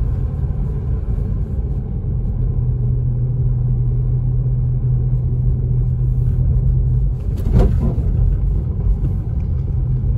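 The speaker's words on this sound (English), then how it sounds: "I tried to hit that bump a little hard so we could try to get some of the snow in between the tires and stuff like that off" A car on a snowy Big Bear mountain road rumbles steadily with heavy low road noise, then thumps over a bump in one brief jolt near the end before the drone continues; no talking.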